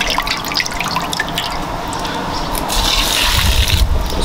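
Running water washing seafood in a kitchen sink for a soup, a steady close splashing stream with dripping and gurgling that builds louder near the end, with no one talking.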